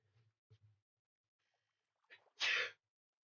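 One sharp, loud sneeze from someone with seasonal allergies, preceded by a few quiet breaths and sniffs, heard close up in an otherwise quiet room.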